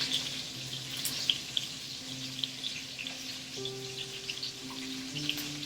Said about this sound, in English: And then like a big glug of red wine vinegar.